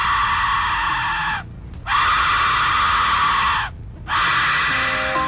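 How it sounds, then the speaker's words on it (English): An Aztec death whistle blown loudly at close range, an ear-splitting, scream-like howl held in three long blasts separated by brief breaths. "When blown, the whistle generates an ear-splitting howl that sounds like a demon's agonized screams."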